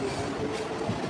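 An EMU local train on the Howrah Division of South Eastern Railway rolls along the rails, heard from onboard as a constant low rumble and hum with faint wheel noise, steady and fairly loud.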